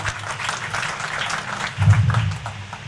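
An audience claps together at a community pilgrimage gathering, a dense, moderately loud burst of applause that swells briefly near the end, with no speech over it.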